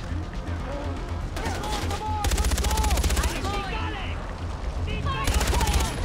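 Gunfire in the Far Cry 4 video game crackles in rapid bursts, loud and dense, with pauses between volleys, over game sounds and someone talking.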